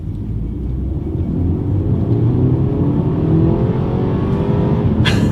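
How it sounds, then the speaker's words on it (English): A 2020 BMW X1 accelerating hard from inside the cabin, a deep engine drone rising steadily in pitch as it gains speed, with a short brighter burst of noise right at the end. "let's do a quick little acceleration"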